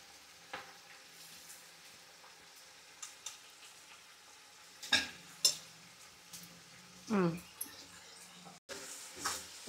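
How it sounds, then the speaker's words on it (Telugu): Chicken and onions sizzle softly in a pan for biryani, with occasional scraping clinks of a spoon stirring against the metal and someone talking intermittently over the low frying hiss. "ఇదిగోండి ఈ చికెన్ అంతా వేగాలి"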